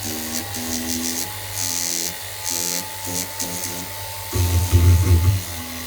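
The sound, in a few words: power tool sanding silver jewellery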